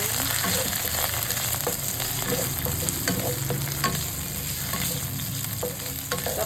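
Pork and ginger frying in a pan, a dense continuous sizzle with steady crackle and frequent stirring scrapes, close and fairly loud throughout.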